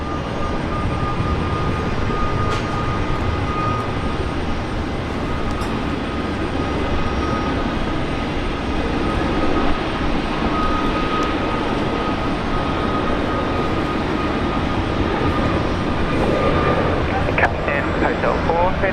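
A Fiji Airways airliner rolls for takeoff at Brisbane Airport, its jet engines a steady, broad, distant roar that holds for the whole stretch, with a voice talking over it.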